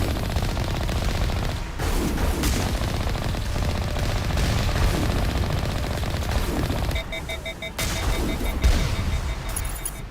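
Rapid automatic gunfire from the video game Mass Effect, dense bursts of shots almost continuous and loud, with a brief lull and a shift in tone near the end.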